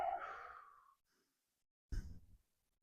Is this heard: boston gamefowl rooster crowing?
no